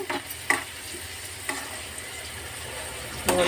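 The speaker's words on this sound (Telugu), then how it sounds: "ఇలా కళాయి పెట్టుకుంటూ ఎర్రగా వేగకూడదండి, కొంచెం లైట్గా వేగితే చాలండి." Garlic fries lightly in a kadai with a soft, steady sizzle, broken by a few sharp taps and clicks of a stirring utensil against the pan.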